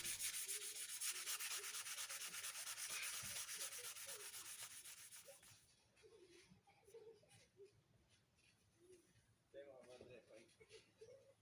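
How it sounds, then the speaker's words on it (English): Metal-specific wet-sanding paper rubs against a rusty old camping axe in a steady, close scraping rhythm, then gives way to slower, intermittent strokes with a brief voice. "I have one paper specially made for metal and wet sanding"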